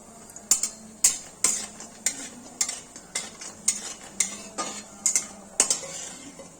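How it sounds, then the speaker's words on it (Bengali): Mung dal bori fry in hot oil in a pan, stirred with a metal utensil that clinks against the pan roughly twice a second over a soft, continuous sizzle, with no talking. "বড়ি ভাজা হয়ে গেছে, এবার তুলে দিচ্ছি"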